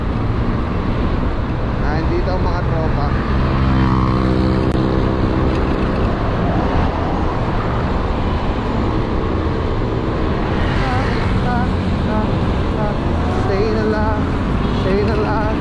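Steady roar of traffic in a dedicated motorcycle lane, motorcycle engines droning close by and bikes passing continuously, while someone talks over the noise.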